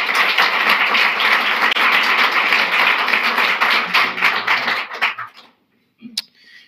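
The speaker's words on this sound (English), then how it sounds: "Let's give her another round of applause." Applause from an audience at a Canadian Club speaking event, steady and dense for about five seconds before thinning into a few scattered claps and then fading out.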